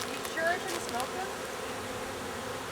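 Honeybee swarm droning in a Vancouver backyard, a faint, steady buzz with a few brief louder passes of individual bees close by, under quiet background noise.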